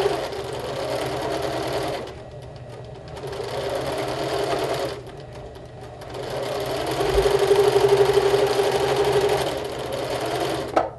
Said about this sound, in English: I'm going to sew. I'm going to do a 1/4 inch seam.